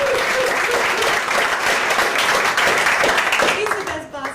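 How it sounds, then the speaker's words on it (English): An audience at a theatre licensing industry week event gives a loud, sustained round of applause that tapers off at the end, with a voice speaking over it. "So another round of applause for Courtney."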